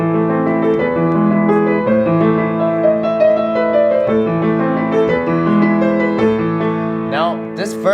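Solo piano playing Für Elise, a steady run of melodic notes over sustained lower chords, continuous and fairly loud throughout with no voices.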